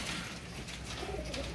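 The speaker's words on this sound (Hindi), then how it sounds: "ये देखें माशाल्लाह व्यूअर कैसे आउटस्टैंडर्ड कबूतर है।" Pigeons coo softly in a loft of outstanding show birds, a low murmuring call close by over steady background noise, with no talk.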